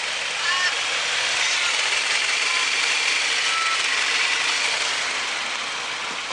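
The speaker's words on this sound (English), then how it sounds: "Oh, there's the engine." A Dodge Avenger's 2.4-litre engine idles steadily at an auto parts yard, producing an even, continuous hum with no changes in pace and no voices over it.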